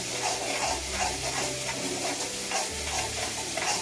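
Macaroni pasta is stirred in a pan over a gas flame, giving a steady close scraping and stirring sound over a continuous sizzle, with no talking.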